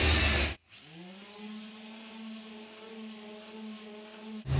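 An electric orbital sander runs steadily on chalk-painted furniture, a close, even motor whine holding a constant pitch for about four seconds, preceded by a brief loud burst and cut off at the end.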